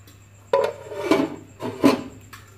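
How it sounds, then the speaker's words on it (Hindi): A lid is set onto a cooking pot of beef nihari, giving a few close, soft metallic clunks and scrapes spaced about a second apart in an otherwise quiet kitchen. "अब इसको ढाँप देंगे और मीडियम फ्लेम पे इसको गलने देंगे"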